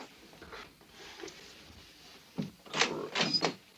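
A small door is opened indoors in a dramatic film scene, giving a few scraping, rattling bursts and a brief creak near the end, moderately close with no speech.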